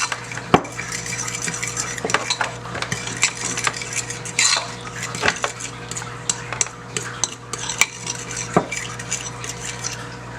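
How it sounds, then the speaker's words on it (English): A utensil stirs mustard and ketchup together in a dish, making repeated scraping clinks and taps in an irregular rhythm, close and fairly loud, with no talking. "a little bit of mustard, and a little bit of ketchup, and I'm gonna mix this all up together."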